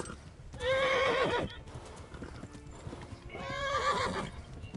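A horse in the Kingdom Come: Deliverance video game gives two loud, close neighs, with the first one sharper, over steady clip-clop hoofbeats and no speech.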